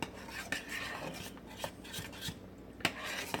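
A spoon scrapes and rubs against a pot of cheese sauce being stirred, giving a quiet series of irregular scraping strokes with small clinks, close up and with no voices.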